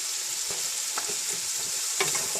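Onions frying in a pan for a Punjabi black-eyed bean curry, a steady bright sizzle with a few soft stirring knocks close by, no talking.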